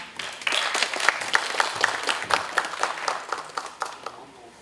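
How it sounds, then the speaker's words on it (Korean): An audience at a Korean historical conference on the Bocheongyo independence movement applauds to welcome a keynote speaker, a steady, dense patter of many hands clapping for several seconds, fairly close and loud, thinning slightly toward the end. "큰 박수로 모셔보도록 하겠습니다."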